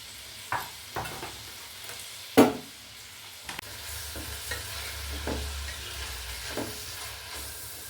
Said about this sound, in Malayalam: ഗരം മസാല ഇതൊക്കെ കൂടി പുരട്ടി വെച്ച ചിക്കനാണ് കേട്ടോ നമ്മളിപ്പോൾ വറുത്തെടുത്തത്